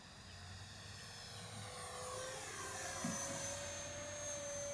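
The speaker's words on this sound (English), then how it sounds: "I would definitely venture to say that this is a good beginner EDF jet" An Arrows RC Viper 50mm EDF model jet flies at a distance, its ducted fan giving a thin, steady whine that drifts slowly in pitch and stays faint throughout.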